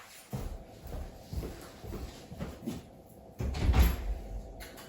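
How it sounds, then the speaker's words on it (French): A door opens and closes to let a cat in, with a sliding, rattling sweep followed by a louder bump and shuffle near the end, close by, with no talking. "je vais ouvrir à mon chat qui gratte à la porte"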